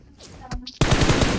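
Automatic weapon fire in the battle royale game PUBG, a loud dense burst erupting after a quieter stretch and rattling on steadily to the end.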